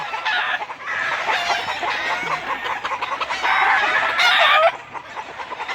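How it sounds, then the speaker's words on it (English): Game fowl roosters in the evening crow loudly and cluck nearby, several overlapping calls in quick succession, with longer crows rising near the end. "these roosters are acting up this evening"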